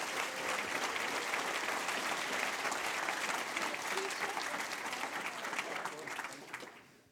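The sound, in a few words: audience applause for the speaker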